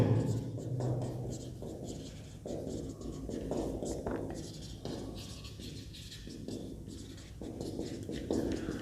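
Chalk or marker scratches across a classroom board in short repeated strokes, fairly quiet, with faint room noise in the background.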